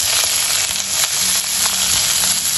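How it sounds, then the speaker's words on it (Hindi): Onion hits hot mustard oil and fries in a loud, dense, unbroken sizzle close by, a continuous hiss with faint stirring underneath and no voices. "मु एबे एथिरे अनियन को ऐड कर"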